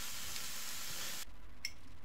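Ground meat being stirred in a pan gives a loud, dense sizzle for the first second, then drops away abruptly to a quieter hiss with a brief scrape.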